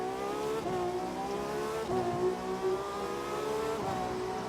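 A Ferrari FXX engine in the video game The Crew 2 revs steadily, its pitch climbing and dropping through gear shifts, continuous and moderately loud with a smooth racing tone.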